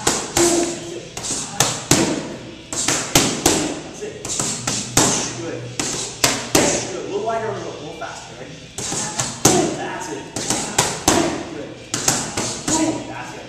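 Punches strike training pads in a repeating combination of three quick speed hits and one harder power blow, sounding as close, sharp slaps and thuds with a trainer talking over them.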